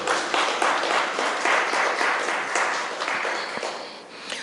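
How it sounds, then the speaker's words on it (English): An audience at a calypso awards ceremony applauding the nominees, a dense, continuous patter of many hands clapping in a hall that tapers off slightly toward the end. "Let's have a round of applause for all 40 nominees."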